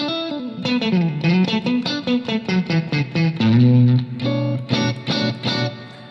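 An electric guitar plays a steady chordal riff with short rhythmic strums, a bright tone and a wash of reverb, with no voices.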